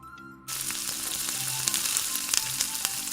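Puris deep-frying in hot oil, a steady, dense sizzle that bursts in loudly after a brief quieter start and keeps crackling with small pops throughout, close and without talk.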